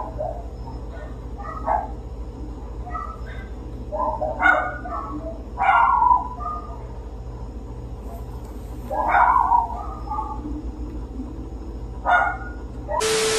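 Several dogs bark in short, scattered bursts at a middle distance in a Caribbean neighborhood, over a steady low electrical hum, with gaps of quiet between volleys.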